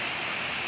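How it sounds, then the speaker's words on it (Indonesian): Surf washing onto a beach in Banten, a steady broadband rush of breaking waves that fills the short moment without pause or voices. "mantep ya ombaknya"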